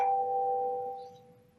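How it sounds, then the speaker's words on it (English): A phone plays a doorbell chime, one clear electronic ding that rings out and fades over about a second. "Doorbell."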